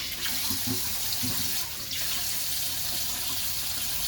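Water running steadily from a tap while a doll is washed, a constant close hiss with a few brief clunks of handling early on, then a short break before the flow carries on.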